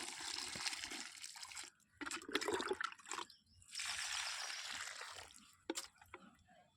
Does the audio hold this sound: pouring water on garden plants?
yes